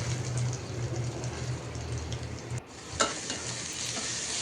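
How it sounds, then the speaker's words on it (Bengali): Beaten eggs mixed with coriander leaves, onion and green chili fry in a pan, giving a steady close sizzle with a low hum beneath and a brief clatter partway through. "তো ডিমেও ধনেপাতা, পেঁয়াজ, কাঁচামরিচ দিয়ে গুলিয়ে নিলাম। এরপর এখন ভেজে নিচ্ছি।"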